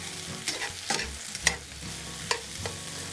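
Pot roast drippings sizzle in the bottom of a pot as a spoon stirs through them, making several quick scraping strokes over a low, close crackle, with no talking.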